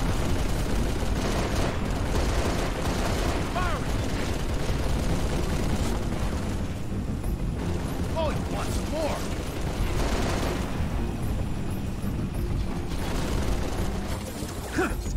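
Dense gunfire in Halo: Reach, with continuous rapid shots and booming impacts layered over each other throughout, mixed with faint voices.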